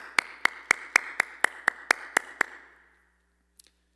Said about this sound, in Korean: 모든 영광을 하나님께 감사의 박수로 올려드리겠습니다